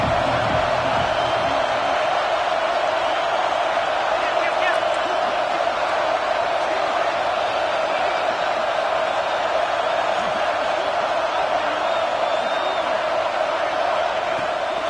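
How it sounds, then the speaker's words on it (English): Large football stadium crowd at Happy Valley roaring steadily on third down, a dense continuous wash of noise with no clear breaks, heard from within the stands. "Here comes the noise from this big crowd in Happy Valley on third down."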